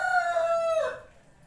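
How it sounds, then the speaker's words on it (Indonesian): A rooster gives a single close crow, a bright, drawn-out call that falls off and fades within about a second. "Ada suara ayam ya teman-teman."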